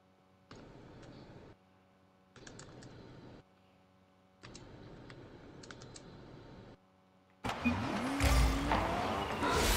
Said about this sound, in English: I was typing all that out